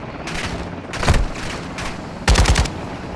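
Gunfire from Modern Warfare 2 Remastered comes in several rapid bursts, with two heavier volleys standing out from the steady in-game background. No one speaks.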